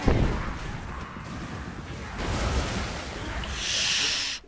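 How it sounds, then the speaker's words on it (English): A Warp Lightning Cannon strike in the Total War: Warhammer battle game, Vampires against Skaven, a loud crackling blast and rumbling impact with a rising hiss near the end. "Oof, a brutal hit from the Warp Lightning Cannon."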